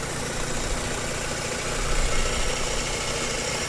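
A stock Mazda RX-7 Type RZ FD3S rotary engine idles slightly rough, a steady close mechanical hum and buzz with a faint low pulse and no talking.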